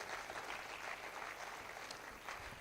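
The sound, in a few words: applause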